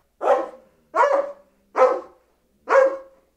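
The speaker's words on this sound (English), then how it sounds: "it consists of several individual dog barks." Four distinct dog barks, evenly spaced and close, each a short sharp burst with clean silence between them.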